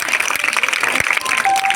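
An audience at an Independence Day celebration at a tuition centre in Gooty claps in a loud, busy burst of applause that continues without pause.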